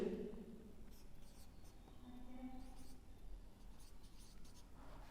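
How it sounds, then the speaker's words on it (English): Chalk or marker scratches faintly across a classroom board as a teacher writes a math question, soft intermittent strokes in a quiet room. "I will write the question on the board."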